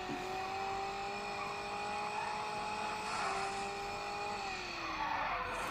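Engines from an underground street racing video game whine with steady, rising and falling tones over a constant roar, continuous and moderately loud throughout with no talking.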